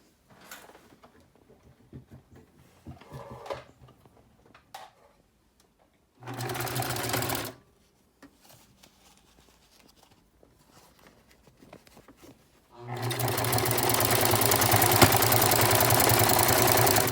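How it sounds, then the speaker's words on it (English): Sewing machine running a zigzag or decorative stitch over wire, heard in two bursts: a short run of about a second, then a loud sustained whir lasting several seconds after quiet handling noises. "do some either sort of a zigzag stitch or a decorative stitch so that it bounces over the wire"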